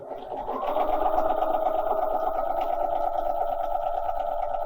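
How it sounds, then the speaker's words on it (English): Bernina 300 series sewing machine stitching a decorative pattern, a steady close mechanical hum with a fast even needle rhythm running continuously after a brief start-up. "we can stitch as long as we like, and then select the pattern end"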